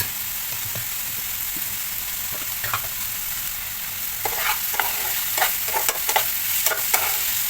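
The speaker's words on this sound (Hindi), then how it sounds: "फास्ट पे 2 मिनट भुनेंगे, गैस को फिर बंद कर देंगे हम।" Chicken and cheese filling stir-fried on high heat, with a low steady sizzle and intermittent scraping stirs that grow busier toward the end, close up.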